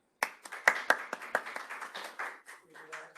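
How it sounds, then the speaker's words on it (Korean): An audience at an academic accounting and finance seminar claps to welcome a Seoul National University professor: a run of distinct, fairly close hand claps in a steady uneven rhythm, with a voice audible alongside. "백복현 교수님 큰 박수로 맞으시기 바랍니다"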